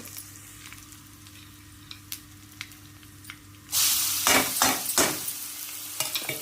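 Cumin and asafoetida crackle quietly in hot oil with light taps, then chopped onion hits the pan and sets off a loud, sudden sizzle. Stirring scrapes follow as the hiss settles, close up, with no talking.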